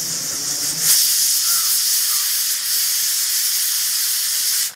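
Pressure cooker on the stove releasing steam with a loud, steady hiss, a sharp burst near the start and then continuous close venting until it cuts off.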